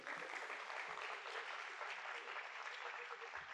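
A school awards ceremony audience of parents and students applauds steadily and densely for about three and a half seconds at a moderate, even level, with no voices standing out.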